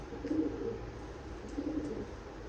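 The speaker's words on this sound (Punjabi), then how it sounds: "ਬਾਕੀ ਕੁਝ ਆ ਕਬੂਤਰ ਇੱਥੇ ਬੈਠੇ ਆ" Pigeons, including golden and pearl-marked birds, coo softly in a loft, giving two low cooing phrases near the start and again past the middle over a steady background hum.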